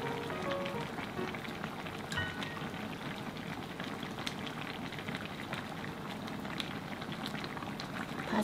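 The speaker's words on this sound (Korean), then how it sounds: "찌개가 아주 맛있게 잘 끓었는데요" Kimchi stew with fish cake, tofu and sliced chillies bubbles in a pot, a continuous close rolling boil of soft pops and gurgles with no voices.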